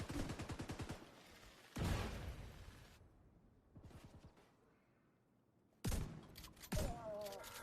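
Grenade launch and blasts in The Division 2: rapid gunfire and sharp bursts, with a loud explosive hit near the end, interleaved with talking voices.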